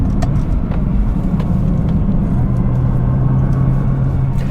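A 2013 Nissan GT-R Black Edition drives fast on the road, its engine and road noise a loud, continuous rumble heard from inside the car, with engine pitch rising toward the end.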